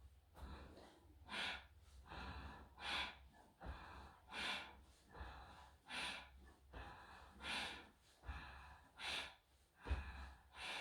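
Bhastrika breathing exercise done with opposite arm and leg movements at a quickening pace: a dozen or so forceful breaths, close and fairly soft, rhythmic in-and-out huffs with short pauses, with no talking.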